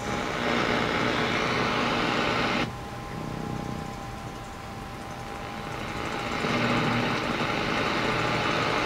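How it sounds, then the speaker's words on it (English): A neighbor's running weed whacker causes electrical interference on a Grundig 800 receiver fed by a 31-foot vertical antenna. It comes through as a loud, steady buzzing static with a faint whine that dips for a few seconds mid-way and then returns. "He decided to run his weed whacker."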